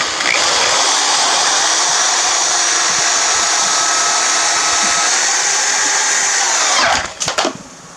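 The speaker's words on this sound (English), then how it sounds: "I'm going to ground it again back here. Self-tapping screw." A power drill drives a self-tapping screw to ground a boat trailer's taillight wiring: one loud, continuous motor whine for about seven seconds, then it cuts off with a few short clicks and rattles.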